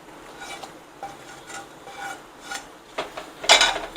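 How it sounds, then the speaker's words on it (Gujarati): A spoon stirs khoa (mawa) into thick cooking sugar syrup for kaju katli, making soft rhythmic scraping and rubbing strokes against the pan, each one brief and fairly close. "આ માવો આવી રીતે નાખીને એની અંદર હલાવી નાખવાનો."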